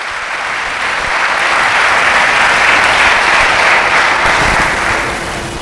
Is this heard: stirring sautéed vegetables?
no